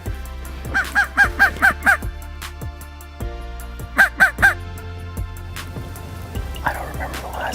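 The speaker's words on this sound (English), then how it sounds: "I don't remember the last time I had a turkey gobble to a crow call" Outdoors during turkey season, a honking crow call sounds in rhythmic bursts, repeated in two series of close, loud calls. A wild turkey's gobble may come between or after them, though it cannot be separated clearly.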